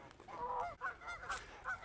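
Angry geese honk and squabble at close range on a Missouri golf course, several harsh, overlapping honks in quick uneven bursts.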